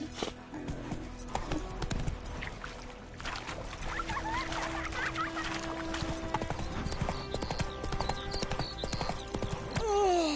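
Horse hooves clip-clop in The Witcher 3 video game, a quick galloping rhythm with a brief whinny, water splashing and other game sounds around it.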